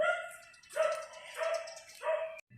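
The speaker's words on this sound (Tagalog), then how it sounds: "ang ingay ng aso naman." A dog barks four times in a steady rhythm, fairly faint and somewhat distant, with quiet pauses between barks.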